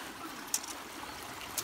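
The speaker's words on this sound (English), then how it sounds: "Looks like a waterfall here. It is." A small waterfall runs over rocks into a canal beside a road, a steady, close rushing wash with a couple of faint chirps on top and no talking.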